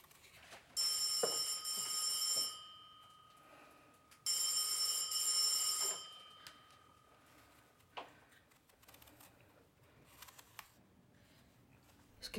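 An old-style telephone bell rings twice in long electric bursts, each about two seconds, with a pause between, followed by quiet room sounds and a few faint knocks.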